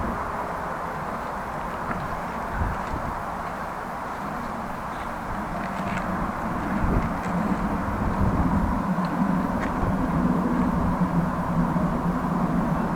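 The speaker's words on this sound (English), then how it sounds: "Here, plane in the sky." A plane passes unseen high over a Groningen street in winter, a broad, steady low rumble that swells gradually toward the end, heard over outdoor traffic and ambient noise.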